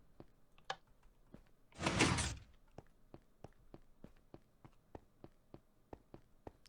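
A door in the Minecraft video game opens with one loud sliding whoosh partway through, set against a steady run of short sharp clicks and ticks before and after.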